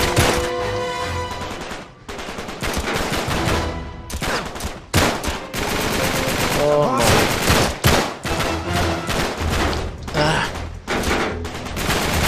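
Machine gun fire fills a firefight in Uncharted 3, loud and close, with rapid bursts in repeated volleys and short pauses in between.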